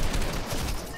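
Rapid gunfire from the video game Fortnite, a dense burst of shots filling the second at steady loudness with no talk over it.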